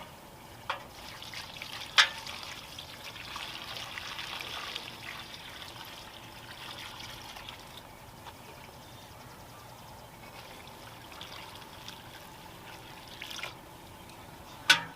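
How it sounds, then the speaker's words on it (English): Water trickles and splashes softly while front garden containers are watered by hand, with a few sharper clunks and taps scattered through a quiet, steady outdoor background. "let me show you guys how we're going to water these front containers."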